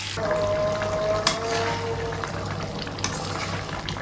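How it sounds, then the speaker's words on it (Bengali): Chicken fries in a pan with an even, close sizzle and a couple of brief clatters from utensil or pan, with no talking. "এরপরে আমি চিকেন রান্না করি"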